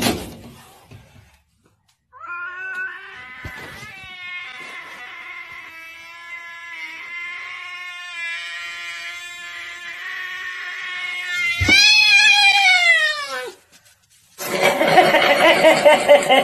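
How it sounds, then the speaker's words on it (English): A cat lets out one long, drawn-out angry yowl lasting many seconds, rising into a strained screech, followed by a short burst of harsh noise. "Have you ever heard a cat that was so angry that it meowed until it partially blacked out?"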